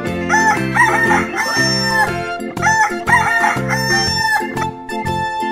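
A rooster crows repeatedly in a bright, harmonic cartoon-style game sound effect, several loud calls in quick succession with no talk over them.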